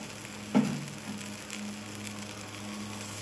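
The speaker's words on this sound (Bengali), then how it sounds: "সামান্য একটু জল দিয়ে দিয়ে আমি মশলাটা বেশ ভালো মতো কষিয়ে নেব।" Masala spice paste being fried and cooked down with a splash of water for a katla or rui fish kalia, giving a soft steady sizzle with one brief louder hiss near the start.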